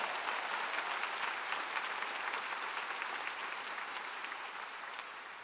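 A large church congregation at a revival meeting in a gymnasium applauds, producing dense, sustained clapping that fills the hall loudly and evenly, then eases slightly toward the end.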